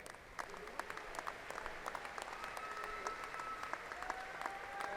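Dense, distant applause from a university commencement audience honoring graduates rolls on steadily, quiet and diffuse, with faint whistles or tones drifting through.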